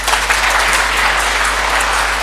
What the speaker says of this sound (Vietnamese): Hãy vỗ tay cảm tạ Đức Chúa Trời